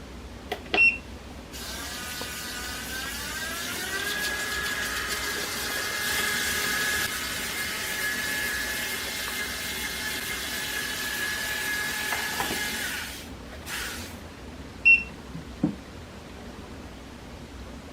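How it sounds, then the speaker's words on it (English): A TP-Link Tapo RV10 Plus robot vacuum whirs steadily with a rising-pitch hum for about twelve seconds as it drives back to its dock, then stops, followed by a few soft clicks and thumps nearby. "press on the home button on the robot vacuum to send it back to the docking station"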